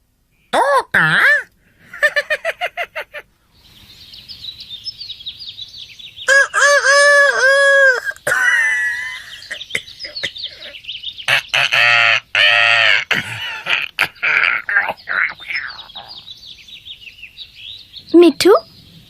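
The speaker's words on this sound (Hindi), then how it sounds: "ओह तोता, बहुत प्यारा है।" A cartoon pet parrot squawks and chatters in repeated loud bursts, alternating with animated character voices and busy background sounds.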